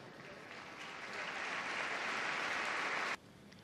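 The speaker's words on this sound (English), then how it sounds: "a huge round of applause for the Labrador Retriever" Large show audience at Crufts applauding a Labrador Retriever, a dense wash of clapping that swells louder before cutting off abruptly near the end; no voices.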